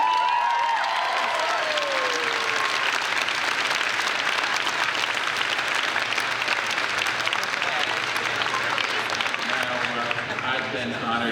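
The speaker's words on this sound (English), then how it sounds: "Maybe your graduates want to give your parents a nice round of applause right now." A large outdoor crowd at a college commencement gives sustained, dense applause for the parents, steady and loud for over ten seconds, with faint cheering and a voice briefly audible at the start.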